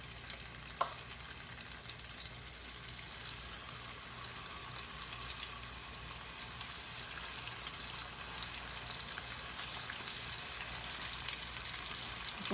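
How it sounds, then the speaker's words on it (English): Chicken pieces sizzle in hot oil as they brown for Jamaican-style brown stew chicken, a dense steady frying hiss with one brief clack near the start and no talk. "You hear that sizzling sound, you know it's hot."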